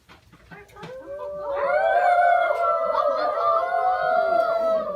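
A dog howls in a long, rising, sustained wail that is loud and close, with harmonics that waver over several seconds, performed as a sound effect in a children's camp play.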